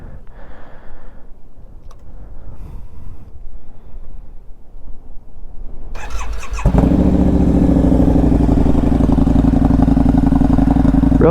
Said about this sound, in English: A 2006 V-Rod Street Rod, and it is crazy.